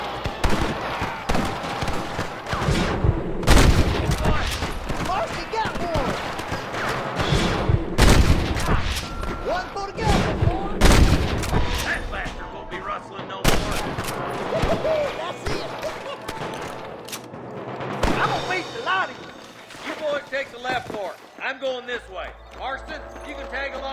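Gunfire in a shootout with rustlers in the video game Red Dead Redemption: repeated loud gunshot bursts and volleys across the whole stretch, some close and sharp, with shouting voices and game sounds mixed in.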